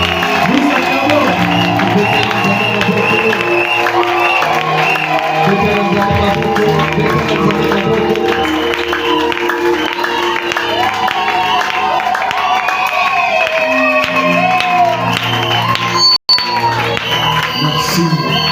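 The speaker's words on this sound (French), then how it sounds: "Nous acclamons Dieu là-bas, nous acclamons." A church congregation at an evangelical convention cheers and acclaims God, a dense, continuous crowd roar of voices, whoops and clapping mixed with music, loud and sustained throughout with one brief dropout near the end.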